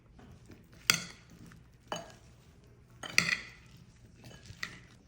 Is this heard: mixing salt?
yes